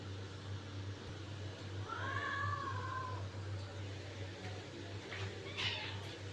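A house cat gives a single faint meow indoors around feeding time, the drawn-out call sitting over a steady low mechanical hum, with a few soft clicks later on.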